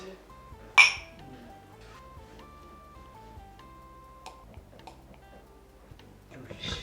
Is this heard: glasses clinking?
yes